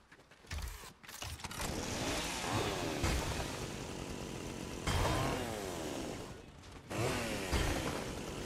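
A chainsaw in Fortnite chews through objects on a farm, its motor revving and grinding in repeated loud bursts with rising and falling pitch, punctuated by short pauses and mechanical clatter.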